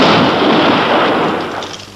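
A grenade explosion in a 1973 French comedy film, a loud broad blast whose roar fills the moment and slowly fades, with no voices over it.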